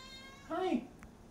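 A cat gives a single clear, close meow lasting about a third of a second, with a faint murmur of a voice in the background.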